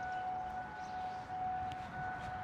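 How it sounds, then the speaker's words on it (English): Tornado warning sirens sound during a routine monthly test, a steady sustained wail with no voices over it. "I hear the tornado sirens."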